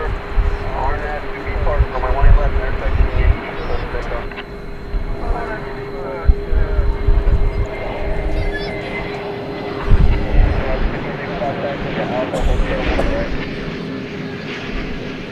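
An Airbus A380 jet airliner at DFW Airport at night, with a broad, steady engine roar and rumble that swells and fades, plus a constant tone, while people talk over it.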